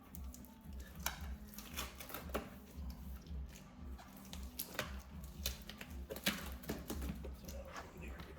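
A heavily taped cardboard box holding a wooden bamboo slant board is opened on the floor, giving a run of scattered close tearing, scraping and tapping sounds.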